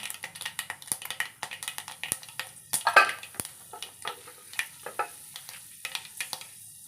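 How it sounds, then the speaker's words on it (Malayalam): Mustard seeds and fenugreek seeds sizzle and crackle in hot coconut oil, with a steady frying hiss broken by many sharp popping bursts, heard close and alone. "കുറച്ച് കടുക് ഇട്ട് കൊടുക്കാം. രണ്ട് മണി ഉലുവ ഇട്ട് കൊടുക്കാം."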